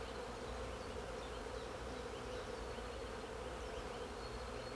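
Honeybees buzzing steadily as they fly back to the hive, a continuous dense drone of many insects at close range with no talk.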